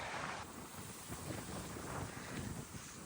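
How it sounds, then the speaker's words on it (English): Wind gusts buffet the microphone on an open farm hillside with a dead flower field, a steady rough rush that surges and eases in waves, with no voices. "A little windy."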